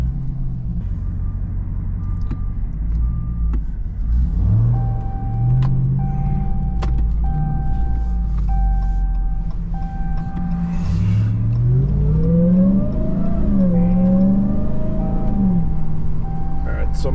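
Ram TRX pickup truck driving at low speed, a deep engine rumble rising in a couple of slow revs, with chimes and warning beeps from inside the cab while a person talks.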